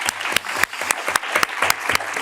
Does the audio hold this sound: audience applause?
yes